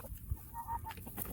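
Roosters cluck softly around a chicken feeder, a few faint, brief calls close by in a quiet farmyard.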